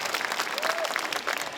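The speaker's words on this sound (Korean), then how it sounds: "다시 한번 큰 박수를 부탁드리도록 하겠습니다" Audience applause at a unification memorial ceremony in Korea, dense steady clapping from a seated crowd throughout, fairly close and continuous without a break.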